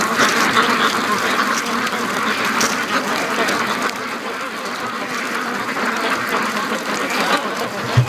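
Free-range ducks raise a loud, overlapping clamor of quacks close by, steady throughout, while Muscovy ducks wait nearby.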